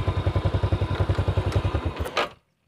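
A 2008 Yamaha Jupiter Z motorcycle engine idles with a steady, rapid thumping pulse up close, then sputters briefly and cuts off into silence as it is switched off.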